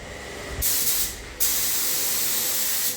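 A spray gun lays down 901 olive primer with a loud, close hiss of air. It starts, breaks off briefly, then resumes and holds steady. There is no talk.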